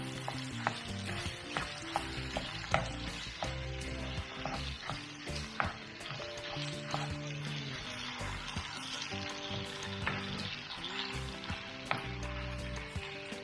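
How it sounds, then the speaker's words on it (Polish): Minced meat and lightly fried onion sizzle together in a pan for lasagna, a constant crackling fry with recurring scrapes and knocks of a utensil stirring, and faint background music beneath. "cebuli dodaję mięso mielone i teraz wszystko razem podsmażymy"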